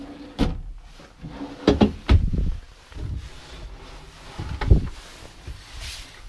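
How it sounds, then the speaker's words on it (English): Drawers on full extension ball bearing guides in a park model RV tiny house open and close in several quick, loud rolling slides and thumps, separated by short quiet gaps. "Full extension ball bearing drawer guides."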